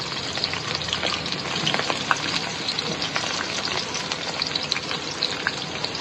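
Chopped onions, four large ones, fry in hot oil in a pan with a steady, loud, dense sizzle and crackle that runs without pause, close by, with no talk.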